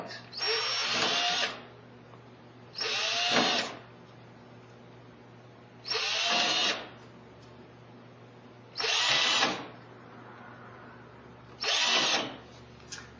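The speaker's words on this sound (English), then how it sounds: "I had to drill a hole at each one of the intersections" A power drill bores holes at the grid intersections of graph paper laid on a board: five evenly spaced, whining bursts of about a second and a half each, with quiet pauses between them.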